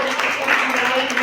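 Steady audience clapping fills a poetry gathering at a book launch, a short continuous burst of applause from a seated crowd, close and fairly loud.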